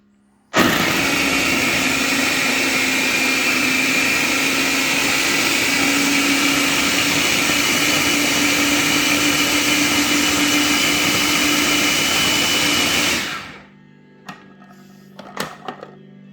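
A kitchen blender purees one large onion in a loud, steady whir lasting about thirteen seconds alone, then cuts off abruptly, leaving faint handling clicks and rattles.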